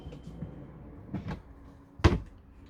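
Motorhome step storage door on a rear-lounge Mercedes-based motorhome shut and opened, a soft thump followed by a sharper close clunk, near and alone in a quiet interior.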